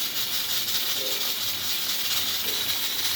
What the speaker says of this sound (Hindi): ये हमने सिर्फ 5 मिनट्स के लिए कुकर लगाया है अरबियों को गलाने के लिए इंस्टेंट तरीके से।